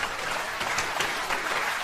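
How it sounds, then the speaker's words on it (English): Audience members aged 45 or older applaud at a comedy show, a steady wash of dense clapping from a large crowd with no other sound throughout. "45 or older applaud."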